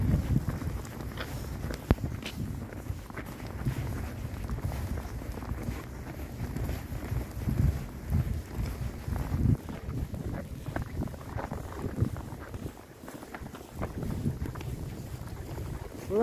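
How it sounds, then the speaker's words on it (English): Wind drives blowing snow outdoors on a winter day in Canada, a continuous low rushing roar with buffeting gusts against the microphone, steady and fairly loud with no voices. "Blowing snow."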